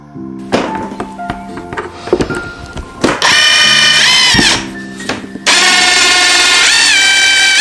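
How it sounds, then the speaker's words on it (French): A cordless drill, a PDC 18/4, whirs up in loud sustained bursts after some knocking and tapping on wood, its pitch steady then dipping as it stops and restarts. "donc vous voyez une perceuse"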